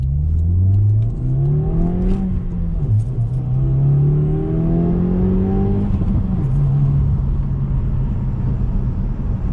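2018 Subaru WRX fitted with an Invidia R400 catback exhaust, heard from the cabin with the windows down: low exhaust rumble rising in pitch through gears, with a shift dip around the middle, then settling into a steady drone.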